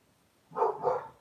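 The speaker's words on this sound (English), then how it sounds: "He's probably barking at a cat." Two quick, muffled dog barks in close succession, somewhat distant, after a moment of near silence.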